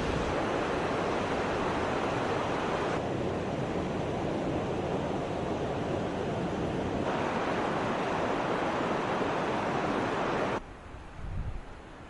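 A waterfall in Guyana roars as a loud, continuous broadband rush of falling water, close and steady throughout with no voices, before dropping off sharply near the end.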